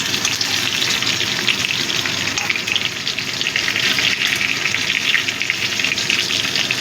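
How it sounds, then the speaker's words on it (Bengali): Mixed vegetables, cucumber among them, fry together in a pan for a prawn curry, giving a loud, close, unbroken sizzle and hiss with the occasional faint stir. "আমি একসাথেই ভেজে নিচ্ছি।"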